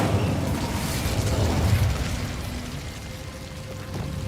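A fire spell in Hogwarts Legacy rushes out as a dense, roaring whoosh of flame that swells and then fades into a softer crackling tail.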